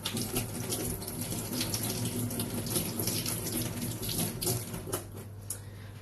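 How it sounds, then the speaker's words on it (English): Tap water runs steadily into a sink as egg is washed off hands, a continuous close rushing splash with slight shifts as the hands move under the stream, no talking. "So I'm just going to wash off some of the eggs from my hands."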